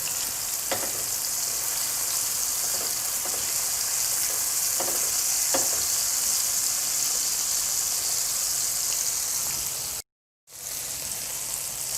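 Tomatoes fry in a pan with a steady, loud sizzle that runs unbroken for several seconds, with a few faint clicks of stirring and a short gap of silence near the end.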